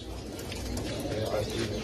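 Pigeons coo steadily at a busy Baghdad animal and bird market, close and fairly loud above a dense crowd murmur, with voices talking throughout.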